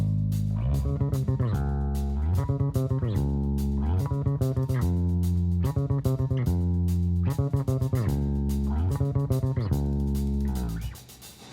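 Bass guitar plays the verse part of a worship song, repeating a rhythmic pattern of plucked low notes with quick higher runs, loud and steady for about eleven seconds before stopping.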